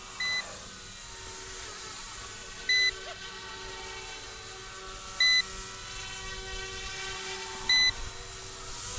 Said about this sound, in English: the battery beeper is on